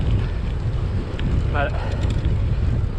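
Strong wind buffets the microphone as a rider pedals a Genesis Bohe gravel bike against a hard headwind, a steady dense roar filling the whole clip, with a brief spoken word near the middle.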